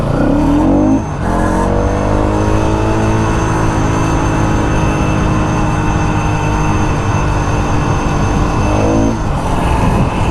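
Yamaha R15 V4 and Pulsar NS200 motorcycles accelerating hard in a drag race, with loud engines rising in pitch through the gears and a brief dip near the start before a sustained roar.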